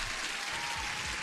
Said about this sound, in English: Top 5 deserves an applause again.